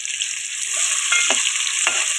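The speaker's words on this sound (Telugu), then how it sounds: "ఇది కొంచెం చిప్పట్లాడుతుండగా ఆనియన్స్ వేసుకుంటున్నాను" Onions and green chillies dropped into hot oil for prawn biryani, sizzling steadily with a few stirring scrapes; close and continuous, with no talk.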